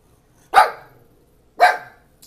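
Guard dog barking indoors, two loud, sharp barks about a second apart, close to the microphone with quiet between them.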